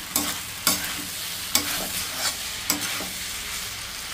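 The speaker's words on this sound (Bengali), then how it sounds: "বিট নুনটা দিয়ে আর একটু নাড়াচাড়া করে নামিয়ে দেব।" Fried pasta is stirred in a sizzling pan, a spoon knocking and scraping at irregular intervals over a constant close frying hiss, with no talking.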